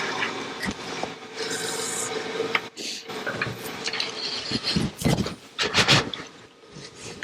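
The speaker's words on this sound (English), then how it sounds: "Use that as a scraper again. Just blend it in there." A scraper rubs and scrapes across spinning wood on a lathe while a lidded box is turned, a steady close rasping with uneven swells and a few sharper scratchy bursts toward the end.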